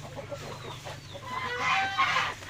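Native chickens cluck and call in a farmyard poultry house, several short calls building toward the end over a low steady hum, fairly close and moderately loud.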